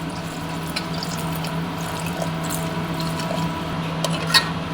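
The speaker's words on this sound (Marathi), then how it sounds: "आता याच्यामध्ये आपण थोडंसं पाणी घालून घेणार आहोत." Water pours into masoor lentils in a pot as a homestyle usal is prepared, a steady close trickle and splash running the whole time with no talking.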